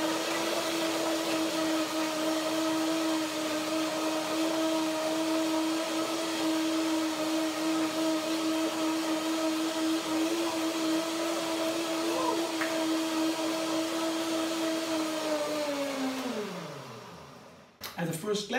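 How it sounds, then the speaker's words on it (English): A blender whirs steadily on apples, hazelnuts and a cashew banana cream, its motor drone holding a constant pitch for about sixteen seconds before winding down and stopping near the end. "Blender dance."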